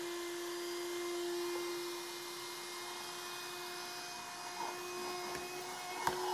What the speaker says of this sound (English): We still have the vacuum. Let's turn it on.